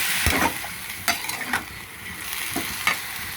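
A utensil scrapes and stirs through a curry of raw mango, brinjal and green gram in a pan over a steady sizzle, with several distinct scraping strokes close by.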